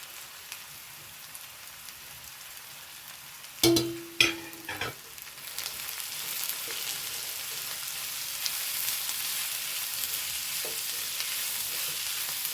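Green chilies fry in a pan with a soft sizzle; a few sharp clanks of a spoon stirring against the pan come early, then the hiss swells into a steady, brighter sizzle that continues to the end.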